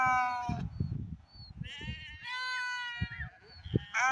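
Sheep and mountain goats in a Himalayan herd in the Niti valley bleat repeatedly, with several overlapping calls near and far and an outdoor background rumble.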